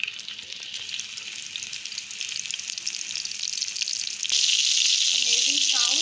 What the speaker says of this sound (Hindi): इसको हम लोग फ्राई करते हैं और आपको दिखाते हैं